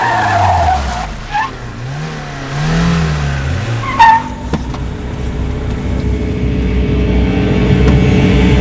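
A car in a Tamil action movie scene races up with revving engine, then brakes hard with a loud tire skid and squeal before settling into a steady rumbling idle, close and loud.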